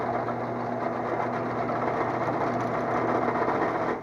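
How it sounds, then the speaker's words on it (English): A drill press spins steadily with a chucked part, giving a continuous, even motor hum with a whining tone that holds at constant loudness close by before cutting off at the end. "so we got our drill press. There it is. If I got it chucked straight, it'll spin even"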